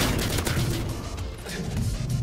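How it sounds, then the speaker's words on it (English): Pistol shots in the video game Modern Warfare 2. A few sharp cracks ring out over a dense, noisy game backdrop, fairly loud and close. "He, like, pulls out his pistol."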